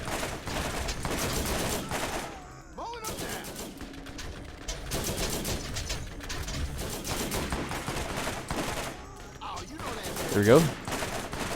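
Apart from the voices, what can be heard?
turret firing at bandits in video game Borderlands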